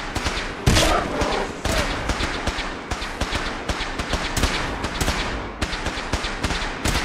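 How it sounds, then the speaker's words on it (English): Fallout 4 game combat: a dense barrage of rapid gunshots crackles continuously, with sharp overlapping bursts and a heavier blast near the start. "Who's shooting at who now?"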